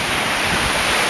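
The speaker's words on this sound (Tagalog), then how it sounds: "Agos ng ilog." River current rushes loudly and continuously outdoors, a dense, steady roar of flowing water close by with no pauses.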